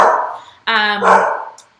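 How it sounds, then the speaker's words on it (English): A pet dog barks loudly and close by, giving two or three sharp barks in quick succession in a home setting. "that would be my dog"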